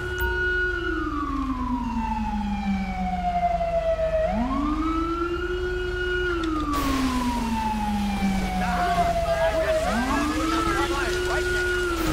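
A fire engine siren in the video game GTA 5 wails in slow rising and falling sweeps, loud and steady over a constant engine rumble, with a burst of extra noise partway through.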